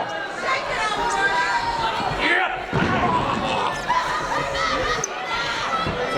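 Wrestler slammed onto the ring mat in a double-team elbow move at a live independent wrestling event, sharp thuds under a commentator's voice and a murmuring, laughing crowd.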